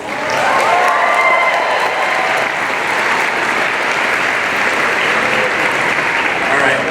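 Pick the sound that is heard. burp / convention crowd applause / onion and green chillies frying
convention crowd applause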